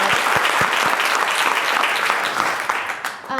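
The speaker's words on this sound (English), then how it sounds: "I just want to give a round of applause to Sass" Sustained applause from a crowd, steady and dense clapping filling the space, with a few sharper individual claps standing out near the start.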